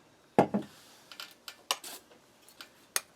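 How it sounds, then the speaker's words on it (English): A spoon clinks and scrapes against a cup while hot chocolate made from a 2002 Swedish field ration is stirred with hot water: one sharp knock, then a series of lighter irregular taps and scrapes, close and quiet. "We'll give this a stir."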